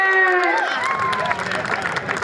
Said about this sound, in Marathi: टाळ्या करा वैभवसाठी